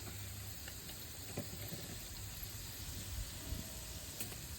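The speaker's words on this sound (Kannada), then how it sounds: "ಕಡಲೆ ಹಾಕಿ ಸ್ವಲ್ಪ ಹುರ್ಕೋಬೇಕು" Chickpeas (kadale) roasting in a pan with peanuts for avalakki, a steady soft sizzle and hiss with faint scattered ticks, quiet and even throughout.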